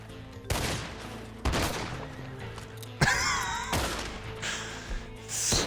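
Shotgun blasts from Red Dead Online, roughly four loud, sharp shots about a second apart, each with a ringing tail, mixed with a whistling game effect midway.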